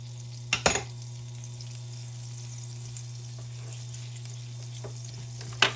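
Butter, about three tablespoons, melting in a hot pan for vegetable puffs gives a soft steady sizzle with a low hum, punctuated by a couple of sharp utensil clicks near the start and end, no speech.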